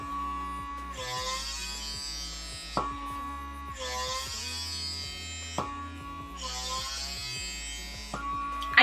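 A PMD Personal Microderm Pro skin device runs on its first speed with a loud electric buzz and hum, its tone rising and falling in three repeated sweeps as it moves across skin, with no talking.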